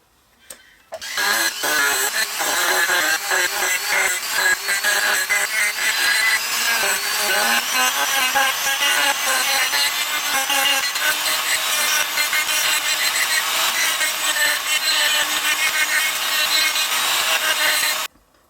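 Loud, continuous grinding and sanding of a power carver shaping a wooden scoop, a steady abrasive roar with slight fluctuations, starting abruptly and running without pause.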